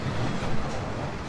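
Train rolling along in a PS4 shooter game, a steady broad rumble with low clattering wheel noise, fairly loud and continuous with no talk.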